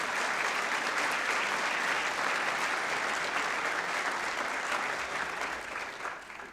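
A conference audience breaks into sustained applause, a broad, even roar of many hands clapping across the room that holds steady and then begins to taper off near the end.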